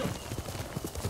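Horse hooves in Ghost of Tsushima, a quick, even clip-clop of a trotting horse, close and steady, with no other sound over it.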